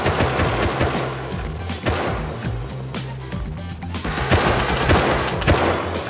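Rapid bursts of gunfire ring out in the video game Rust, crackling in dense, uneven volleys and repeated shots that continue throughout.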